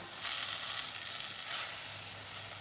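Raw mango pieces and jaggery stirred in a pan for Gujarati-style chunda give a steady close sizzle with soft scraping, continuous and fairly even, with no talking.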